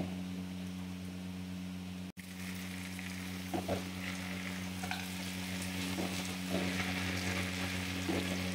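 Sliced vegetables for Bengali shukto, a mixed-vegetable dish, fry with spices in a pan, giving a steady close sizzle with a few stirring clatters. There is one brief dropout early, and no talk.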